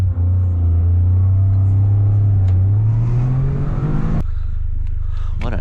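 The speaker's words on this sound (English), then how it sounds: "All the turbo noises sound amazing." Toyota GR Corolla driving uphill, a loud droning engine that rises steadily in pitch under acceleration, then a sudden drop as the throttle lifts, followed by faint whooshing and whistling.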